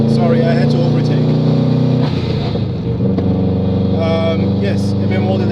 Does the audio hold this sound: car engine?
yes